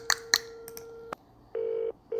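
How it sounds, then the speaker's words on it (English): In a Nancy Drew video game, a telephone beeps through a few quick dialing tones over a steady tone, then sounds two long electronic ring bursts, close and clear with no talking. "Phone is ringing."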